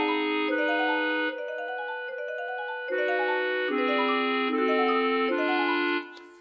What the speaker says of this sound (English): now we've changed it to have clarinets and marimbas